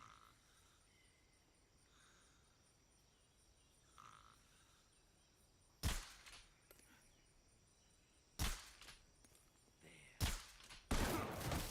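Sharp gunshots from the player's gun in the Metal Gear Solid Delta video game, a few sparse loud cracks spaced seconds apart over a quiet ambient background of insects and frogs.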